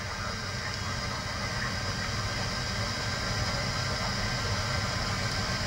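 The left jet engine of a CRJ-700 regional airliner spools up during start, a steady, loud broadband roar and whine holding level throughout with no voices.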